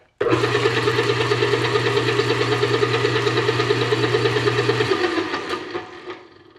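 An electric mixer whips a mixture toward a foam, making a loud, steady motor whine with a low hum that runs alone for about five seconds and then fades as it slows down.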